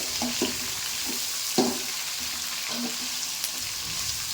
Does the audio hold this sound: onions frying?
yes